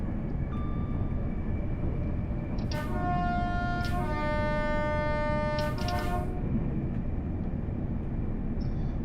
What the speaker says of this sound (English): You will see trains going across there as well.